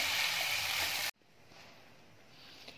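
Red lentils and peas frying in a pan give a loud, steady sizzle that stops abruptly about a second in, leaving quiet kitchen room noise.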